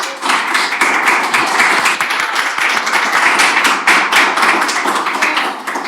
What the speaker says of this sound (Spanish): Un fuerte aplauso del público presente.